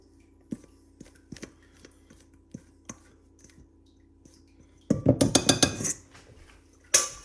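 A spatula scrapes whipped egg whites out of a bowl, first as scattered soft taps and clinks, then a dense burst of scraping and knocking against the bowl near the end.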